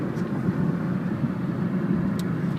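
Steady, low road and engine drone from a 2001 Mazda 626 LX sedan driving down the road, heard from inside, even and unbroken with no talking.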